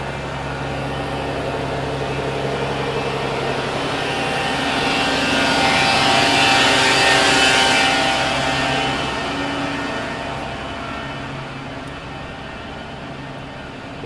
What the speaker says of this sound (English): lorry doing something, oh, that's loud.